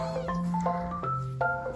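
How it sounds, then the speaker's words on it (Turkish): A young kitten meows close by indoors, a quick run of several high, drawn-out cries and mews coming one after another, loud and with no talk over them. "Kedimizi bununla besledik."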